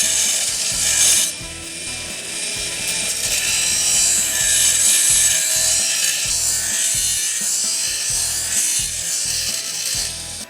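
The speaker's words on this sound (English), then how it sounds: "I'm just going to use my El Cheapo bench grinder, and I mean El Cheapo, I think it's 20 years old, to go ahead and grind everything down to the lines." An old, cheap bench grinder grinds down a saw blade being shaped into a throwing star, a steady, loud, harsh hiss of abrasion with the motor's hum running beneath it for the whole stretch.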